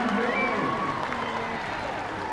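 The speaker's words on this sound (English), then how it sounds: "Bit of a cheer going up on the sideline" Sideline crowd at a 2006 Kiwis versus NZ Residents rugby league match, a distant mix of cheering and clapping under a commentator's voice.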